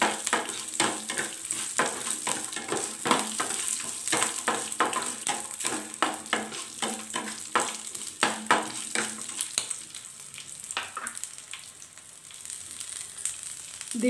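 Green chillies fry in hot oil for Indian amla (gooseberry) chutney, giving a steady close sizzle with frequent spoon stirs and scrapes against the pan, fading slightly near the end.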